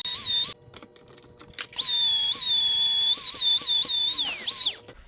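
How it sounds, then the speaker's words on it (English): A grinder smooths the edges of metal brackets with a high, thin whine that holds steady with small pitch wobbles, cutting out briefly early on and near the finish as the tool is lifted and restarted. "So we're going to make all of the edges match with a grinder."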